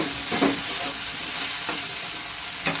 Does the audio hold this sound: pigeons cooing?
no